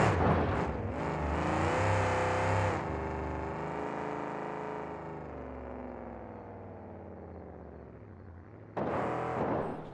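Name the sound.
monster truck engine hitting van stack, doing wheelie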